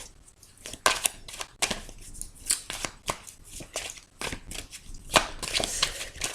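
Tarot cards are shuffled by hand close up, a run of brisk papery riffles and slaps in quick irregular bursts, fairly loud and without talk.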